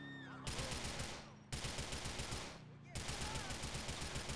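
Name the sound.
gunfire from a video game race, Need for Speed Most Wanted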